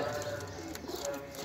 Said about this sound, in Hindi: गोल्डन कबूतर